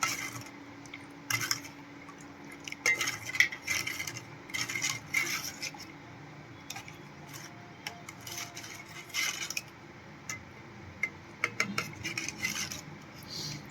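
A spoon stirs red chilli powder, turmeric and coriander-cumin powder into buttermilk in a bowl for Kathiyawadi-style tempered roti, with repeated close metallic scraping and clinking in irregular bursts, no talking.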